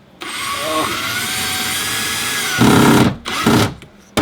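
Power drill driving short self-tapping screws through wood into the wall of an Astro camper van: a loud, steady whirring run of about two and a half seconds, then a brief louder burst, a pause, and another short burst, close up.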